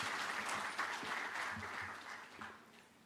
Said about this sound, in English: Please clap for them as they take your seats.